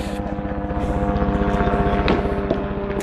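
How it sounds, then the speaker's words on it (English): A helicopter buzzes overhead during an outdoor pétanque tournament, its rotor giving a steady rhythmic throbbing drone that stays loud and continuous, with a couple of faint background clicks. "Not sure what that helicopter buzzing in the sky sounds like for you guys."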